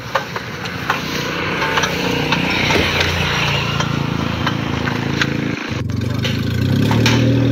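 Car engine revving loudly and continuously through a repaired exhaust silencer after the car's underside struck a stone, a rough mid-range roar that swells toward the end.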